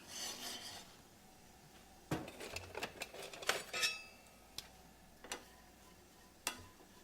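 A kitchen stove is switched on to medium-high heat. A handful of sharp, irregularly spaced igniter clicks stand out against a quiet room, with faint rubbing and handling sounds between them.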